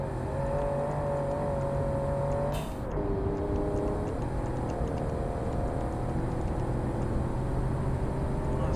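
A car engine in BeamNG.drive accelerates on a canyon course, its tone holding and then rising. After a brief dip it climbs again, loud and close, with no speech over it.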